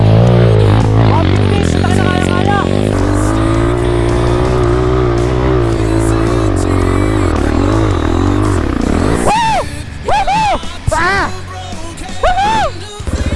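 A trail motorcycle engine, either an MMC 250, MMC 150 or Rusi KRY 200, revs hard as it slips on a muddy trail, rising and falling close by, with voices talking over it.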